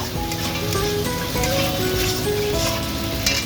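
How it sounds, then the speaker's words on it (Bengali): Spices, chili powder and green and ripe chilies fry in oil for a masoor dal muri ghonto, making a close, continuous sizzle with no talking, and faint tones linger in the background. "আর দেবো পরিমাণ মতন হলুদ ভালো করে মশলাটা কষিয়ে নেব"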